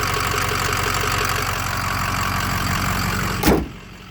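A 2007 Ford F350 Lariat 4x4 with the Powerstroke diesel and about 130,000 miles idles steadily up close, a rough clattering rumble that cuts off abruptly after a brief loud thump near the end.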